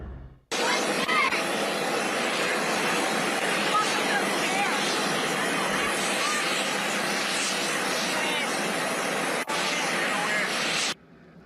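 Loud, steady roar of an airplane's engines holds for about ten seconds, then cuts off abruptly.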